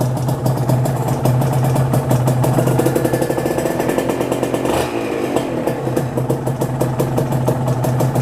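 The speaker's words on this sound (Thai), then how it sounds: "สตาร์ทง่ายครับไม่ต้องโชคเลย เครื่องเย็นก็ไม่ต้องโชคครับ" A Kawasaki KR SE or Yamaha TZR two-stroke motorcycle started from cold without choke, then running at a loud, close, steady idle with a rapid buzzing beat and a brief revving swell near the middle.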